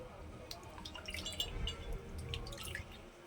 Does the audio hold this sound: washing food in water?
yes